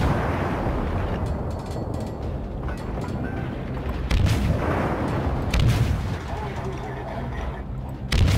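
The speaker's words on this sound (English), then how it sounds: "Let's begin the firing." Warship guns fire in the naval game World of Warships, booming in heavy, low blasts that come in bursts under a dense rumble of battle, with someone talking over the shots.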